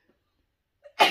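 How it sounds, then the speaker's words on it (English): A single person's sneeze: a faint intake of breath, then a sharp, loud burst at the very end, with no talking. "Excuse me, I gotta sneeze."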